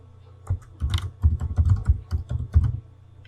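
Computer keyboard keys tapped while working in AutoCAD, a close run of quick clicky strokes in uneven bursts, including an Enter key press, with no speech.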